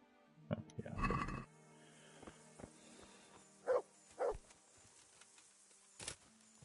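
A dog in the medieval game Kingdom Come: Deliverance gives a few short barks, a loud burst early then two sharper yelps midway and one more near the end, with quiet gaps between.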